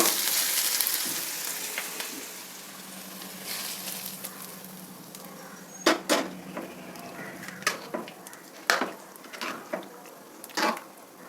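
Fried vegetables being added to diet bisi bele bath and stirred, with a low sizzling hiss at first, then a run of distinct spoon scrapes and clacks against the pot, close and moderately loud.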